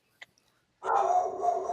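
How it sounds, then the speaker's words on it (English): A dog barks at someone at the front door in a house: a brief yip, then a sustained loud bark or howl, close and alone. "That's my dog. Someone's at the front door."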